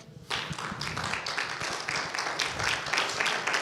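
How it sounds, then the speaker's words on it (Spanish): A church congregation breaks into lively applause for the Lord during a sermon, with the clapping dense and close and some thumping mixed in. "Dar un fuerte aplauso al Señor."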